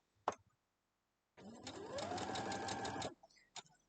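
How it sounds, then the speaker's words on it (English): A sewing machine stitches fabric pieces in one short, loud run of rapid mechanical whirring lasting under two seconds, framed by a few clicks and quiet. "let's sew all these up"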